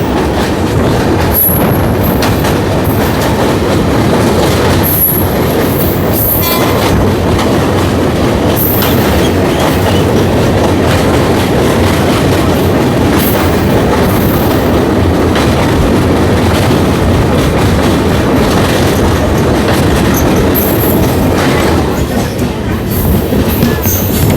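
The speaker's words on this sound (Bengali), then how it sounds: "এখন আমাদের ট্রেন এখন পার হচ্ছে তিস্তা নদী, তিস্তা রিভার এখন পার হচ্ছে আমাদের ট্রেন।" The Kanchankanya Express crosses the Teesta River bridge, rumbling steadily with rhythmic clickety-clack from the wheels and occasional metallic squeals, loud and continuous throughout.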